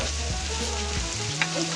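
Food frying in a pan and being stirred, a steady sizzle with scraping stir motions and a low hum underneath, short and close, with no talk.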